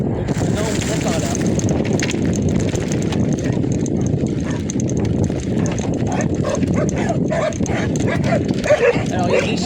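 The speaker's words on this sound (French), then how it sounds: "Alors il y a des chiens enfermés ici" Dogs shut in an enclosure at a farm beside a country road bark and yelp repeatedly, loud and close, in a dense jumble that continues throughout the clip.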